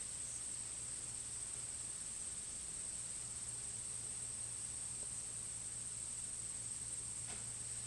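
Crickets keep up a steady, high, continuous chirring through the whole stretch, with a soft breezy hiss underneath and no voices.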